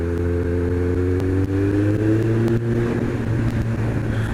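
A motorcycle engine shifting into second gear on a wet, petrol-slicked roundabout, with a loud, steady drone whose pitch rises as it pulls away, close and continuous.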